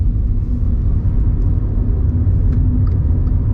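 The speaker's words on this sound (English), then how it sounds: "To give you an example of just how quick this car is off the mark, got a roundabout, nothing coming" A SEAT Mii Electric city car pulls away from a roundabout, heard as a loud, steady low rumble of road and motor noise with no voices.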